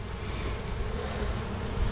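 A mass of wild bees moved into a beehive makes a dense, steady buzz close by, continuous and even throughout, with faint wind noise in the background.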